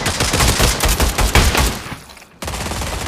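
Dense, close bursts of rapid gunfire from the VR shooter game Pavlov, overlapping shots rattling almost continuously, a brief lull, then another burst.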